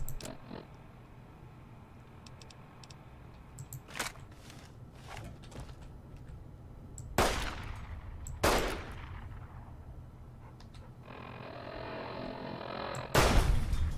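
Gunfire in Fallout: New Vegas, Dead Money DLC: a handful of sharp, loud shots spaced a few seconds apart, separate from one another, over a low ambient game drone.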